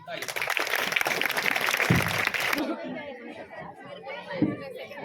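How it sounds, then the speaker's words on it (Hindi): An audience at a school's humorous mushaira poetry gathering breaks into dense applause mixed with chatter for about two and a half seconds, then fades as a speaker's voice takes over. "सबसे पहले तालियों की गड़गड़ाहट के साथ इनका इस्तकबाल कीजिए"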